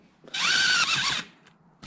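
A power drill runs down bolts during LT1 engine top-end reassembly, one loud high whirring burst lasting about a second, close up, followed by a couple of faint clicks.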